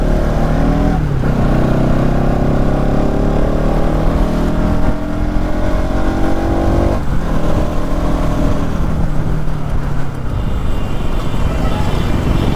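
A Bajaj Pulsar NS200 motorcycle descending a highway slope on engine braking, its engine whining loud and close with repeated falling pitch sweeps as gears drop, over steady wind and road rumble.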